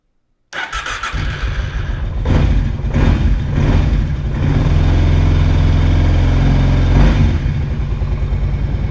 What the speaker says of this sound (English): so the engine fired good.